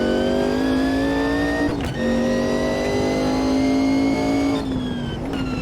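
A race car engine in the sim racing game Automobilista 2 revs hard and climbs through the gears, loud and close with a sharp drop at each upshift, and its side exhausts crackle with unburnt fuel.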